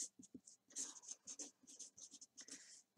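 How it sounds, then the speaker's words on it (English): A Sharpie marker writes a name in big letters on wood, giving a quiet, scratchy squeak of quick strokes with short pauses between them. "So I'm going to get a Sharpie, and we're going to write"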